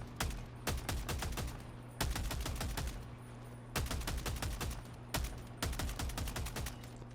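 Automatic weapon fire in the video game Helldivers 2: several sharp, close bursts of rapid shots separated by brief pauses, over a steady low hum.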